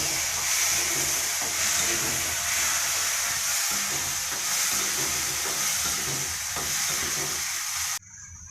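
Chopped tomatoes hiss and sizzle as they are stirred into browned onions in a hot pan, a steady loud frying sizzle with soft scraping strokes, cut off abruptly near the end.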